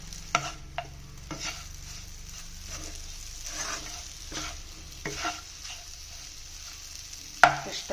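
Jaggery powder being stirred into a Kerala snack mixture, soft scraping strokes against the pan with a faint sizzle underneath and a sharper clink near the end, quiet and close with no talk.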